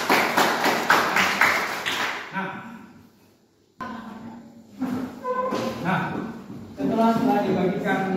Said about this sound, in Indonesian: Kita berikan tepuk tangan dulu untuk